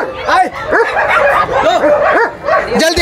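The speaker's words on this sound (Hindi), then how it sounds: "करिया का कुत्ता कैसे झाँव झाँव कर रहा है" Dogs bark and yip repeatedly at a crowded dog market at the Sonpur Mela fair, a rapid series of close, loud barks mixed with busy crowd noise and voices.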